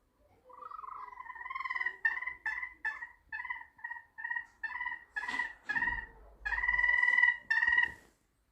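Pet chicken Gloria vocalizing indoors, a long run of about a dozen close, clear squawking clucks in a rhythmic series, growing louder and more insistent toward the end, with no talking.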